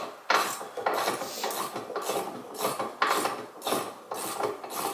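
A bottom shock absorber bolt on a 2010 Chevy Malibu is being tightened with a wrench, giving a run of repeated metallic ratcheting bursts in a steady rhythm, loud and close, with no talking.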